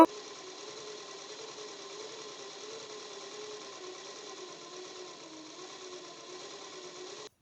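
A sewing machine runs steadily, stitching piping onto a blouse with a continuous, even motor whir that holds at one speed throughout, close and alone with no voices.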